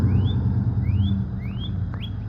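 Male northern cardinal calling, a series of four clear upslurred whistles evenly spaced and fairly close, over a low background rumble.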